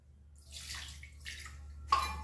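Water is poured into a grinder jar of ground oat batter for dosa, a soft trickling splash in short bursts with a brief sharper pour near the end, fairly quiet and with no speech.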